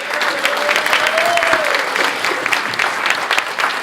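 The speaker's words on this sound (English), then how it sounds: "let's give Cecile another round of applause" Gala audience gives a round of applause, a dense, lively patter of many hands clapping close and loud, with a brief whistle or cheer rising over it early on.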